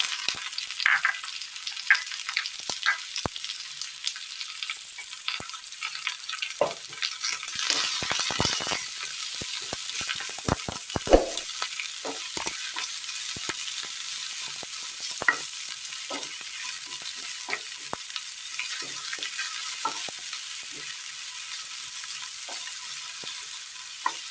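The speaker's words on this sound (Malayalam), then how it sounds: "എണ്ണയിലേക്ക് കടുക് ഇട്ട് കൊടുക്കാം. സബോള അരിഞ്ഞത്," Mustard seeds and chopped onion fry in hot oil, giving a continuous sizzle scattered with sharp crackles and pops, plus a few louder bursts of spattering midway.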